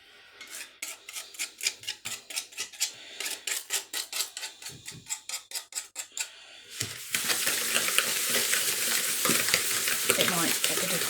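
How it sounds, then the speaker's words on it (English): A whisk beats Christmas pudding cookie dough in a bowl: quick rhythmic scraping strokes, about two per second, then a denser continuous rasp as the whisking speeds up. "I'll try it with a whisk."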